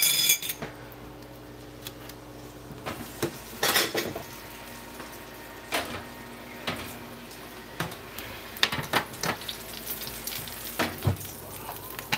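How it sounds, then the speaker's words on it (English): Bacon cooking in a hot pan on a Breville for a bacon, egg and cheese sandwich, being flipped: sharp metal clinks and scrapes of a utensil ring out several times over a faint, steady sizzle, with no talking. "let's grab the bacon. I'm going to flip this around here."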